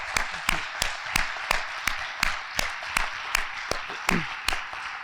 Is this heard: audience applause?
yes